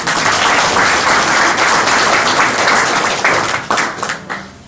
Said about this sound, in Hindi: एक बार जोरदार ताली से स्वागत।